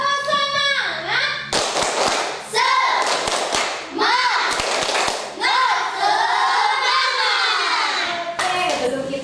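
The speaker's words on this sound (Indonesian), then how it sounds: "Tidak ada tepuk semangat dulu dong." Children in a classroom perform a rhythmic clapping chant, sharp hand claps and thumps in quick patterned bursts mixed with a teacher's and kids' voices leading the routine, loud and close.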